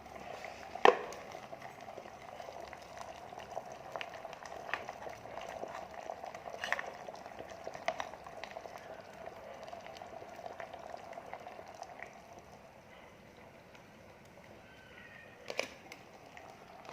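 Eggs cook in an egg boiler with steam, giving a continuous bubbling, simmering hiss of boiling water with small pops and a couple of sharper clinks, close and steady throughout, with no voices.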